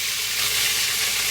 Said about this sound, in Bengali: এরকম ভাবে ভাজা ভাজা করতে হবে দুই সাইডে